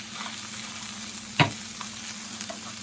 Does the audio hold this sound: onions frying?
yes